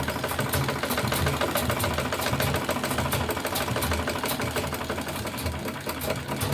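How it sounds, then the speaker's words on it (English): A sewing machine stitches steadily close to the edge of a tote bag strap, a continuous rapid mechanical whir with no pauses. "So now we start sewing. We sew very close to the edge of the belt."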